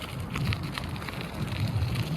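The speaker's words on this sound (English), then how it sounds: "finally got rain" Steady rain pours down outdoors after a long dry spell, a dense, even patter on surfaces that holds constant and close for the whole short stretch, with no voices over it.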